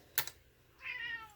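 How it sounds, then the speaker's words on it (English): A cat gives a short meow near the end, after a couple of sharp clicks and taps close by during a zipper pouch sewing session. The sound is fairly clear in a quiet room with no talk. "And that's my cat."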